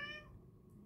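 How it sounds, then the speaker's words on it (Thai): A cat lets out a single short, faint meow at the start, then a quiet low background hum continues with no talking. "น้องแมวขออภัยนะคะน้องแมวบ่นไม่มีใครเล่นด้วยนะคะ"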